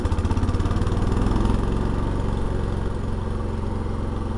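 A 1971 John Deere 140 H3 lawn tractor engine revving outdoors in front of a shop, a loud, steady, close throbbing drone with a fast regular pulse that rises slightly in intensity and then holds.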